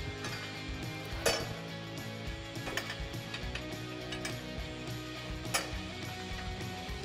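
A hand ratchet clicks in short bursts while tightening the top shock nut on a 2005-2014 Mustang GT during a lowering spring install, with a few metallic clinks. The sound is faint and close, and no one speaks.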